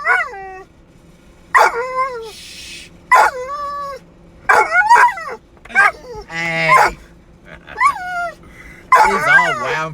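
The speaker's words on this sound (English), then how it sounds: "There's a dog over there. He's just going off. There's barking too." Dogs barking and yipping outdoors, several sharp barks and whiny yelps in irregular bursts, fairly loud and close, with people talking in between.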